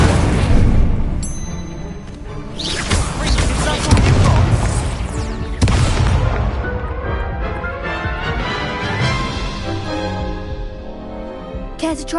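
Fire spell cast in the Hogwarts Legacy video game amid a busy duel, with loud booming bursts and crackling blasts over game music and effects, a voice calling out spell names throughout.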